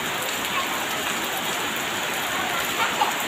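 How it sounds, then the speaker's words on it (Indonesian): Rain falls steadily in a soft, even hiss of drops on surfaces, with no other sounds over it. "Oh, lagi hujan, guys."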